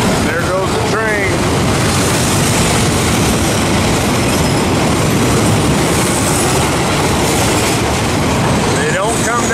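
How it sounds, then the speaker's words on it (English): A train rolls past outdoors near a wooded hiding spot, a loud continuous rumble and rattle of railcars with faint wheel squeals and clacking throughout. "There goes the train."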